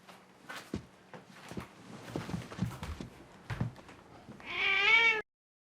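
A film scene with a group hug ends in one loud, sustained cat meow, preceded by rustling, shuffling movement and footsteps, then cut off abruptly.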